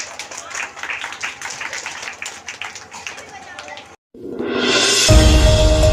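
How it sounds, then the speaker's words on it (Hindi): Applause from a crowd gathered at a madrasa Republic Day event rises suddenly after a brief silence. It swells loud near the end, following a stretch of someone talking. "उनके लिए जोरदार ताली"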